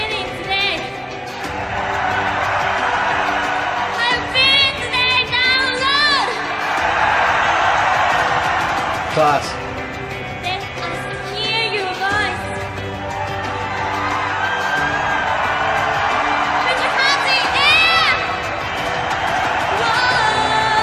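Loud live concert crowd at Download Festival 2016 in the UK, cheering and whooping over heavy metal music, sustained throughout with bursts of shouting; a voice briefly speaks over it.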